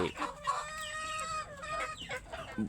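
Country hens cluck in short bursts close by at a morning corn-meal feeding, while a rooster crows one drawn-out call over them.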